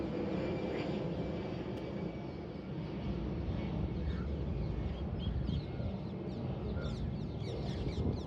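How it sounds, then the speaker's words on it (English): An airplane drones overhead as a steady, broad rumble that holds for several seconds, faint and distant, with a few bird calls flickering above it. "Come on, plane."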